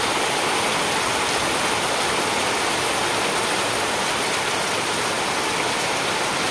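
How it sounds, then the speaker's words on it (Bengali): Heavy rain pours down in a village, a dense, loud and unbroken hiss of water that holds steady throughout, with no voices. "তোমরা শুধু বৃষ্টির আওয়াজটাই শোনো"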